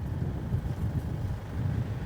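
Strong gusty wind at Melbourne Airport, a continuous low roaring rumble buffeting the microphone with no clear breaks.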